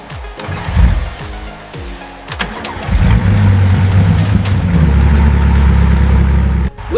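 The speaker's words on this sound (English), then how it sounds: "16 cylinders, 4 turbochargers, 1 masterpiece. This engine will power this car." A Bugatti W16 engine with 16 cylinders and four turbochargers cranks with a few stuttering turns, catches and roars to life, then settles into a loud, deep, rumbling idle.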